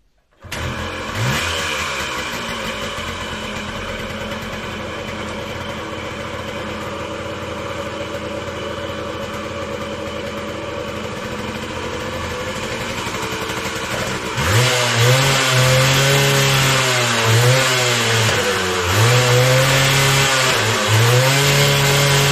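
A 1980 Yamaha DT125MX motorcycle engine turns over and idles steadily, then revs repeatedly in rising and falling surges, loud and close.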